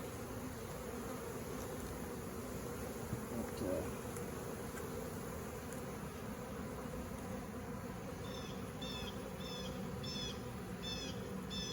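Honeybee swarm giving a dense, continuous buzz that stays loud and steady throughout, with faint bird chirps appearing near the end.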